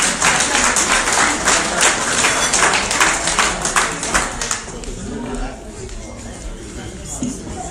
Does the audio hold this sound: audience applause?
yes